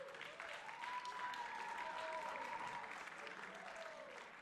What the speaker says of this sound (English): I think we need to give Imani a big round of applause for that.